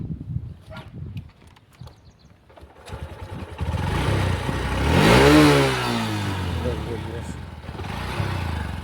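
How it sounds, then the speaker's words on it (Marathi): A motorcycle engine starts and revs up to a loud, rising roar that peaks then eases back to an idle, with people talking nearby. "गाडीची फायरिंग दाखवी आपल्या एकदा"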